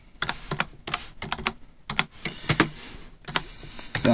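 Rapid bursts of keystrokes on a computer keyboard as a fastboot command is entered to fix a soft-bricked AT&T Fusion 2 phone, clattering loudly in uneven clusters with brief pauses, no voices.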